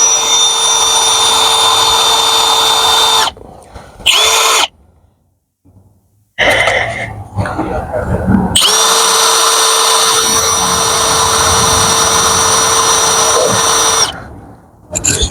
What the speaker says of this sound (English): Just drilling it.